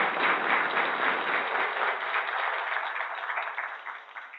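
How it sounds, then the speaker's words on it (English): An audience at a college board meeting claps in a steady, moderately loud round of applause that thins and fades slightly toward the end, with no talking over it. "Ladies and gentlemen, can we give her a rounding applause?"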